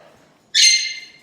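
A single loud, piercing whistled call from an exotic pet bird in an indoor bird room, about half a second long and close, after near silence.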